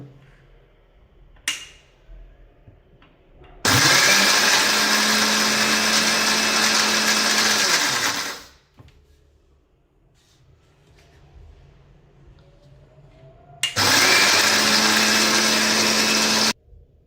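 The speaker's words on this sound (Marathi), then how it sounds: "आता मिक्सरला दळू." A mixer grinder grinding coriander seeds into powder whirs loudly in two bursts, about five seconds then three seconds, with quiet pauses and small clinks between runs.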